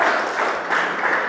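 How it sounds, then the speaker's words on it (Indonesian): Classroom applause for a student after she answers a question about economics, a short burst of clapping from a group of pupils, steady and fairly close, lasting only a moment. "Tepuk tangan buat Karin."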